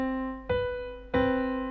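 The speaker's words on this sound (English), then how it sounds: "the interval is a seventh, and that sounds like this." Two clear keyboard tones sounded in succession, C followed by B a seventh higher roughly 0.6 seconds later, each with a bright onset and sustained ringing decay, nothing else audible.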